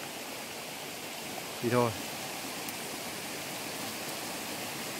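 A forest stream flows in a steady broadband rush that runs the whole time, with a brief voice speaking over it near the start.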